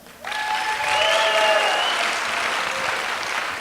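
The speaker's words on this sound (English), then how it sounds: "we want to give a big round of applause" Audience applause at a live Ignite Denver talk event, swelling quickly into a dense, steady wash of clapping from a large crowd, with a few whoops rising above it before it slowly thins out.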